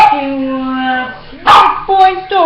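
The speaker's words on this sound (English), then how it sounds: "The dogs are barking and they need to stop it" Dogs caught on a home webcam give a long, drawn-out whine, then a loud burst of sharp barks followed by quicker yips, close and fairly intense.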